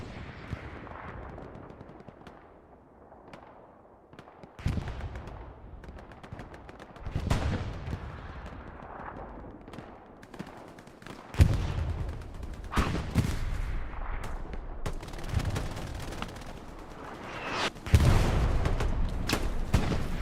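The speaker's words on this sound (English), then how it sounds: "Artillery drops and takes out supplies, it looks like." Artillery and gunfire in the Hell Let Loose war game: a series of heavy booming impacts and crackling shots spaced irregularly across the stretch, some near and loud, others more distant, over a low rumbling battlefield backdrop.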